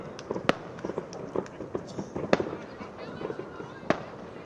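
Fireworks going off beside a football pitch at a university match, sharp scattered cracks and pops at irregular intervals, some distant and some closer, over a low background with faint voices.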